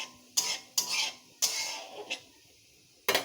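Black cumin (nigella seeds) and dried chilli in hot oil in a pan, stirred with a utensil: several sharp scraping and clattering stirs over a faint background sizzle, close and fairly loud, no talking.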